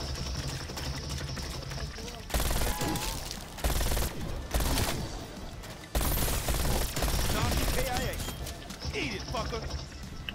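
A long-barreled MAC-10 in Call of Duty: Black Ops Cold War fires in rapid bursts that start and stop, loud and close, with voices talking over parts of it.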